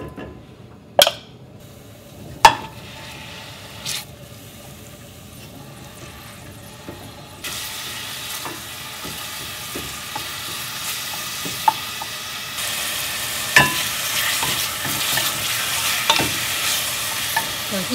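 Ground beef fries in a couple of teaspoons of sesame oil with a steady sizzle, broken by a few sharp clinks of a utensil against the pan. The sizzle swells louder partway through as stirring continues, with no voices.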